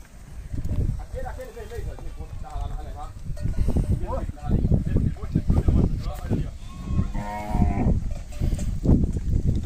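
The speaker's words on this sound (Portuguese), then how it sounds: "Aí tá na separação da boiada" Cattle moo repeatedly during herd sorting at a vaquejada practice in a park, several drawn-out calls near and mid-distance over constant crowd talk and shouting.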